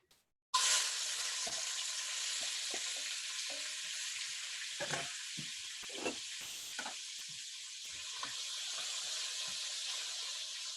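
Food hitting a preheated pan for Korean bibimbap, bursting into a loud, steady sizzle and frying hiss that stays close and continuous, with a few stirring scrapes and pops along the way.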